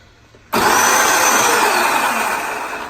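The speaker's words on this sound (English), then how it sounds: "So now you hit the gas pedal." Electric motors of a Gravedigger monster truck toy snap on with a loud whine as the gas pedal is pressed, a steady high-pitched roar after a moment of quiet, close and unbroken.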